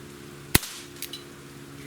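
A Walther CP88 air pistol fires a single sharp, loud shot, followed by a faint metallic click and a soft rattle as the report dies away.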